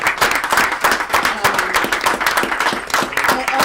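Audience members at a school board meeting clap together in a dense, steady burst of applause lasting a few seconds, fairly loud and close, with no talking over it.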